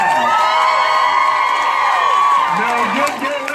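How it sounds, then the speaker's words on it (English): Crowd at a women's march in Norfolk, Virginia cheering, whooping and shouting loudly for a few seconds before the noise starts to fade, with a voice mixed in. "Give Gary McCullough a round of applause."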